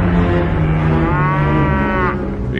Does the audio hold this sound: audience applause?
no